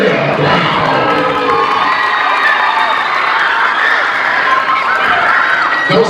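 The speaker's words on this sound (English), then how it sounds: "Make some noise for Sabrina Brown." Loud, sustained cheering and children's shouting fill a middle school event, a dense crowd roar with whoops throughout and a voice rising at the very end.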